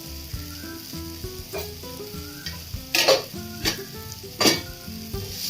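Sliced onion with garlic-onion masala sautéing in a pan for jackfruit seed curry, a steady soft sizzle with a few sharp spoon scrapes and clinks against the pan over faint background music.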